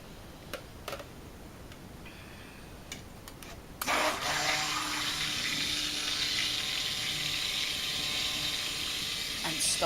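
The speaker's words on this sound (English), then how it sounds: "So now I'm just gonna pour my lye solution into my oils." Lye solution for cold process soap is poured into a container of oils. A steady liquid pour starts after a few soft ticks and keeps running.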